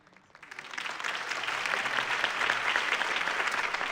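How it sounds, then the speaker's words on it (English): A crowd in Batman: The Telltale Series breaks into loud, sustained applause that swells in the first half-second and holds steady, dense clapping filling the space. "could have heard that applause"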